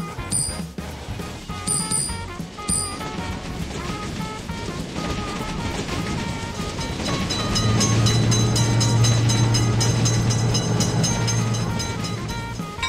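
A train rolls past a railroad crossing, a loud steady rumble and wheel clatter building toward the middle, while a crossing bell rings in sharp repeated tones near the start and a low horn-like drone holds later.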